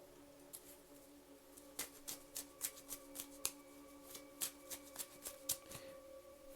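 Tarot cards are shuffled in a steady run of soft, crisp flicks, repeating at a regular rhythm over faint continuous background tones.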